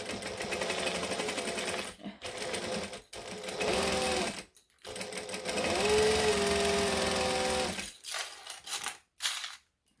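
Sewing machine stitching a fabric dart in close, steady whirring runs broken by brief pauses for back stitches, with occasional faint handling sounds near the end.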